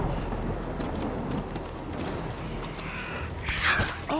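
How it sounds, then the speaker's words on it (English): Acidic rain falls in the video game Death Stranding, a steady close hiss with low thunder rumbling beneath it and a sharper crackle near the end. "The rain!"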